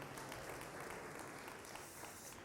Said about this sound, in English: I want you again to give yourself a round of applause for being here